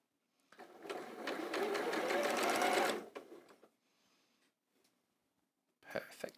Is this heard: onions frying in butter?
no